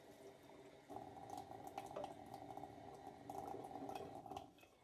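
Water runs from a tap in a soft steady stream as recorder parts are rinsed beneath it, quiet and close, with small splashes rising and falling.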